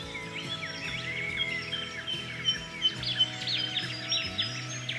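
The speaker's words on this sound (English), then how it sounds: "There's at least 15 types of birds I can hear." Many birds singing together in a dense dawn chorus just before sunrise, overlapping chirps and warbles at a steady moderate level with no talking.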